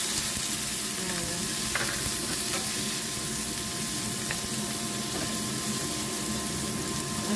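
Carrots and soaked dried shrimp stir-frying in a pan for tumis buncis, a continuous close sizzle with a few light stirring clinks and no talk.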